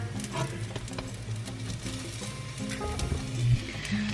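A tuna melt sandwich sizzles steadily in a pan just after being flipped, with a continuous close frying crackle and a few soft clinks and scrapes.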